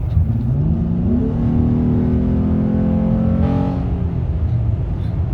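A Honda Ridgeline engine with an AEM cold air intake, cruising near 60, climbs sharply in pitch as revs rise and VTEC engages, holds a loud steady whine, then eases back down, with road rumble underneath and no talk.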